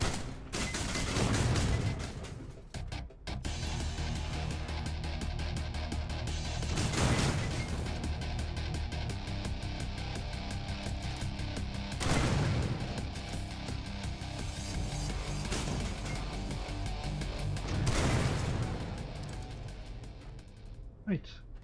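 Turret gunfire from the video game Mothergunship, a dense barrage of repeated shots with heavier bursts roughly every five seconds, loud and continuous under game noise.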